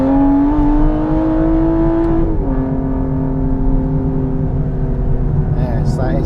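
Aston Martin engine revving with a smooth, rising tonal howl that drops in pitch as it eases off and then holds a steady drone, loud and close, with people talking over it.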